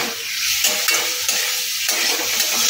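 Bottle gourd sizzles and fries in a pan while being stirred, with a steady hiss and intermittent scraping strokes of a spoon, close and alone without talk.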